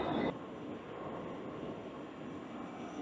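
A steady, low rumble of a passing train in Scotland rolls by at moderate distance, continuous and even, with a brief louder burst at the start.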